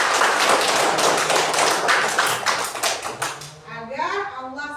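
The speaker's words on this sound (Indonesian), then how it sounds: "Kasih aplaus dulu" A class of children claps together in a classroom, bursts of quick overlapping applause lasting a few seconds before fading into a voice speaking.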